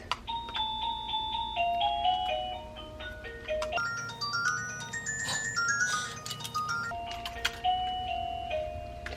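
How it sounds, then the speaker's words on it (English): A wireless doorbell in a classroom plays a long melodic chime, clear ringing notes stepping up and down in a tune, moderately loud and with no talking over it. "This is a wireless doorbell"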